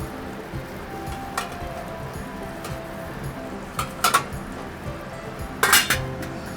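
Metal utensils clink and clatter against pots and dishes as vegetable spirals are moved back to a steamer, with scattered taps and two louder bursts of clanking near the end over a steady kitchen background.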